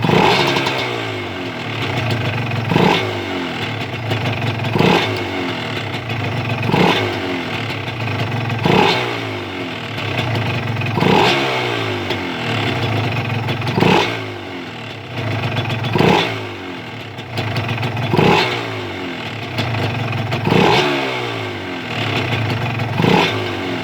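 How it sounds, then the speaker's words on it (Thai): A Honda NSR150 motorcycle engine, fitted with an RC valve and running on a swapped ignition box, is revved high in sharp repeated blips roughly every two seconds over a steady idle, loud and close with no talking. "เดี๋ยวผมจะเร่งรอบสูงขึ้น"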